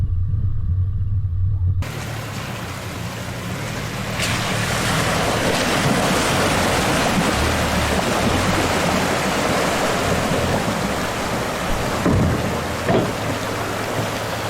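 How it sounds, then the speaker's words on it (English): Rushing river water at a shallow four-wheel-drive crossing on the Macalister River in Victoria's High Country, a loud continuous wash with wind noise, starting after a brief quieter moment. "Just a really nice scenic river crossing."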